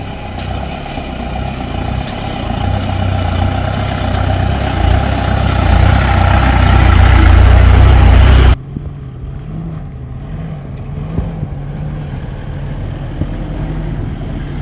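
Engine of an off-road vehicle with a broken silencer, on a 4x4 trail in Idukki, runs loud and rough for about eight seconds, then cuts abruptly to a quieter, lower idle-like rumble with occasional knocks.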